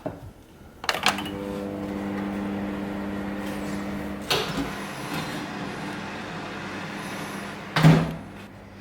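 A microwave oven cooks a whole corn cob in its husk on high, giving a steady low hum with a few clunks and door-like knocks near the start, middle and end.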